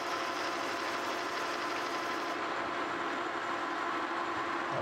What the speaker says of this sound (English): we're going to go ahead and chamfer the top there too